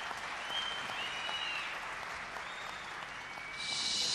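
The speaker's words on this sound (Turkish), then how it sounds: "Bence Ömer Bey'e de bir moral alkışı gönderelim burada." On the Popstar TV talent show, a studio audience gives an encouraging round of applause to a contestant, a dense, even patter of many hands that swells louder toward the end.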